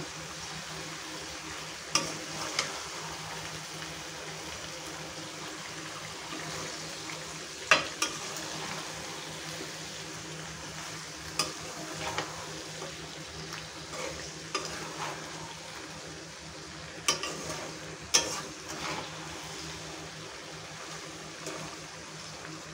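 Melting jaggery is stirred into a raw mango pickle in a pan, with scattered scraping strokes and a low simmering sizzle running throughout at moderate volume, nearby and without speech.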